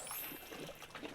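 Water pours into a film developing tank for a pre-wash, a brief splashy trickle with bubbling gurgles, fairly faint and without talk.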